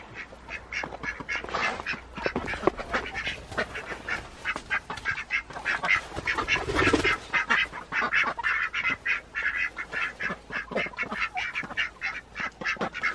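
Many unsettled ducks in a coop quack loudly and continuously in a busy, overlapping chorus, close by, with occasional honking calls mixed in.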